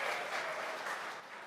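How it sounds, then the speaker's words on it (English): Applause from an audience at a Tesla shareholder meeting at Giga Texas, a dense steady wash of clapping hands that holds for about a second before easing slightly toward the end. "You don't have to clap after every slide unless you really want to"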